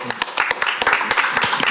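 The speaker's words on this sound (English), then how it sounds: "I think we all owe him a big round of applause" Brief round of applause for Joey at a zoning board appeals meeting, scattered claps from a small group in a room, with voices mixed in.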